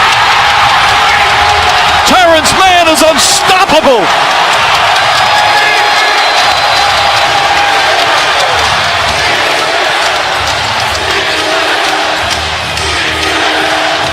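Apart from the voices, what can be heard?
basketball arena crowd cheering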